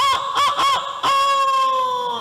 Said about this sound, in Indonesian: Suara ayam, alhamdulillah.